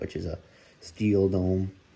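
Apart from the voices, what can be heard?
No everyday noises stand out.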